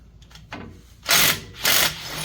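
Power drill driving screws back into an Arctic Cat Wildcat 1000 XX three-cylinder engine: two loud, close bursts of whirring, each about half a second, following fainter earlier rattles.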